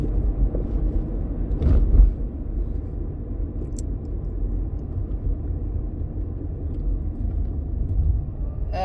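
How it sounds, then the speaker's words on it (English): Road traffic produces a continuous low rumble with one vehicle swelling slightly louder as it passes, heard steadily throughout with no talking. "traffic's starting to get a little thicker than a snicker."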